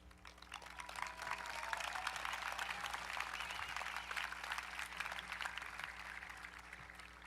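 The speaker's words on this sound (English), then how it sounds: "Please take justified pride in your deeds by giving these graduates a round of applause." An audience at a high school graduation ceremony breaks into sustained applause, dense clapping filling a large hall at moderate distance, steady for several seconds.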